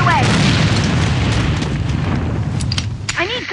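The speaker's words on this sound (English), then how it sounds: "Enemy grenade." Grenade blast in the online shooter Alliance of Valiant Arms: a deep boom rolling under continuous gunfire and battle noise, with a short radio voice line near the end.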